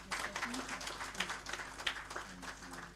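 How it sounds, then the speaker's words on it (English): Audience applause at a campus journalism awards ceremony, steady scattered clapping from a crowd with some voices murmuring underneath. "please a round of applause for them"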